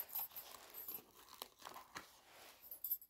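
Packaged household items being unwrapped, with faint, quiet crinkling and tearing of plastic in irregular small bursts and no voices.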